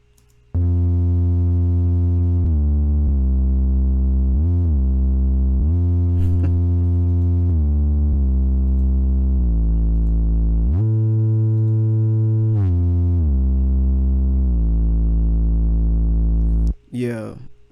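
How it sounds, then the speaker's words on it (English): A smooth sine wave synth bass from the 3X OSC oscillator plays alone in long sustained notes that step through a slow bassline, loud and clean, before a brief blip at the end. "I use a sine wave, and you can create some real smooth basses with this"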